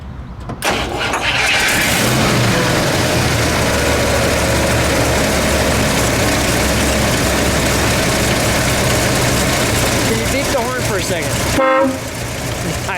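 A 1956 Chrysler New Yorker's 354 Hemi V8 cranks and roars to life close by, then holds a steady, loud rumbling idle before cutting briefly near the end.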